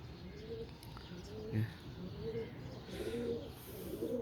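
Sialkoti Gumbatwala pigeons coo in a steady run of soft, low, repeated calls at close range, with faint chirps now and then above a constant hum and no voices.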